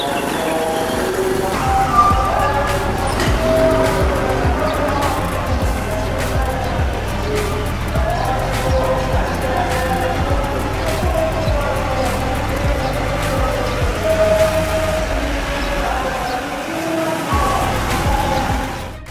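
Car engine and tyre rumble as a car edges along a street narrowed by vehicles parked at the roadside, steady and close throughout with occasional clicks and knocks.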